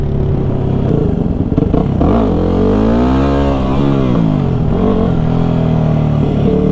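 A new supermoto motorcycle revs hard and close, its engine note sweeping up and down under repeated throttle blips in a parking lot, loud and continuous throughout.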